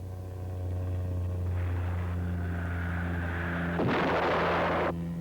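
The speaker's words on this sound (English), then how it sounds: "as Cheyenne launches its missile, then veers off" A Lockheed AH-56A Cheyenne attack helicopter fires a missile and veers off: a steady turbine and rotor drone, then a loud, roaring rush of noise for about a second before it fades back to the engine hum. No one speaks.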